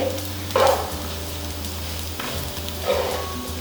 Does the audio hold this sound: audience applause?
no